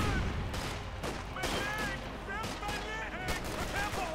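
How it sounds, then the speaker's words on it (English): Rapid gunfire and bursts from a Company of Heroes 2 battle between US and OKW forces, with a grenade blast somewhere in the continuous crackling barrage, all under a caster's voice. "Grenade."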